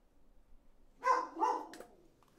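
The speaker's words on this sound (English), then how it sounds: "Fucking dog." A pet dog named Hattie lets out two quick, close barks indoors, followed by a faint short yip, with quiet room background and no talk over it.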